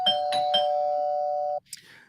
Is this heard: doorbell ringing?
yes